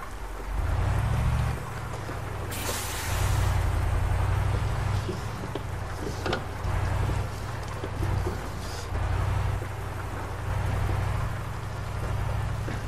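Rain falls in Euro Truck Simulator 2 while a KAMAZ 4310 truck drives, a steady wash of drops and hiss over a low, pulsing engine drone that swells and eases repeatedly.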